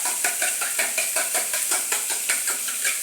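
Rapid rhythmic beating and stirring of food in a pot or bowl by a husband cooking at home, a steady run of quick utensil clatters and scrapes close by, with no talk.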